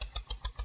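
An Eicher 241 tractor engine runs while ploughing a field with a cultivator, giving a close, steady rhythmic thumping of about five beats in under a second.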